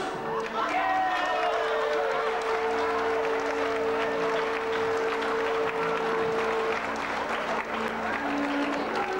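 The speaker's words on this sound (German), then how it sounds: "Applaus!" Audience applause for a men's ballet troupe at the 500-year Waidhofen celebration, a continuous wall of clapping and crowd noise lasting throughout, with a sustained musical tone and voices underneath.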